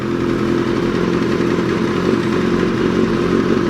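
A motorcycle engine idles loud and close with a rapid, even ticking clatter running through its steady drone, the sound of an engine tapping.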